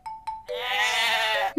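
Cartoon goats in a children's counting lesson bleat: two short calls, then one long, loud, wavering bleat close by.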